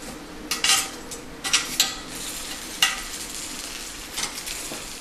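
Roasting vegetables, garlic and onions among them, are flipped with a metal utensil inside a wood-fired oven: a handful of sharp scraping clinks over a soft, steady sizzle and crackle, fairly close, with no talking.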